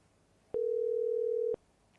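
Telephone tone after a call through a PBX: a single steady tone lasting about a second, starting and stopping abruptly with faint clicks, clean and close, with no voices.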